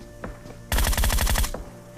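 Automatic gunfire in the shooter game PUBG on the desert Miramar map: a few isolated shots, then a rapid loud burst of about a dozen rounds, followed by a single trailing shot.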